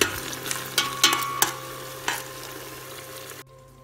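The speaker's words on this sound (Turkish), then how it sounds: "Şimdi onlarla da güzelce etimizi kavuralım," Chunks of meat sautéing with tomato and pepper paste for a bean stew, a steady close sizzle broken by several sharp scrapes and clatters of a spoon stirring the pan, ending abruptly.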